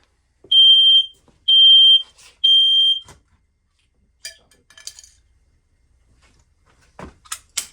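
A smoke alarm sounds three loud, piercing beeps in a steady pattern, followed by faint clinks and rustles of dishes or metal nearby.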